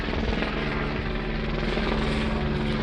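An LAPD police helicopter passes overhead, its rotor thumping in a steady, loud drone that holds throughout with no break.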